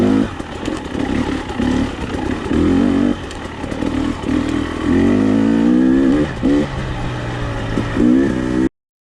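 A 2021 300XC two-stroke dirt bike engine revs and bogs loudly up close while riding over loose, jagged rocks on a mountain trail, with rising and falling throttle bursts and clattering underneath, cutting off abruptly at the end.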